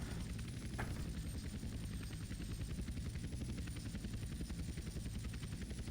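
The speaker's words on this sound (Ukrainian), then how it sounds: "Я керую гелікоптером." Helicopter in GTA San Andreas flies steadily, its rotor and engine drone loud and continuous with a fast rhythmic chop throughout, no talk over it.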